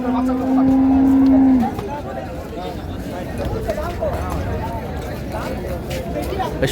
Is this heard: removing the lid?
no